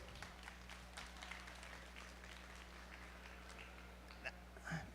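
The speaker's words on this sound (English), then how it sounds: "Let's give this group a round of applause." Faint crowd applause for a junior breeding sheep showmanship class at the Ohio State Fair, soft scattered clapping in a large arena over a steady electrical hum.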